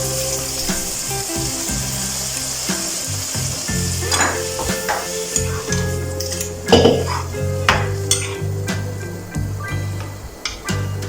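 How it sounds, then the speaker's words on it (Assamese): Boiled dal is fried in a pan for sambhar, a steady loud sizzle and crackle with repeated metal clinks and scrapes of a spoon against the pan, with no talking. "ইয়াতে এতিয়া মই এই দাইলখিনি সিজোৱা যে আছিলে সেইখিনি ইয়াতে ভাজি দিছোঁ"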